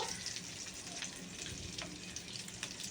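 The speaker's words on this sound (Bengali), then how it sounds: "এটা আস্তে ভাজা হোক" Food for a prawn malai curry fries slowly in a pan, a faint, even sizzle with occasional soft crackles and light stirring, no voices.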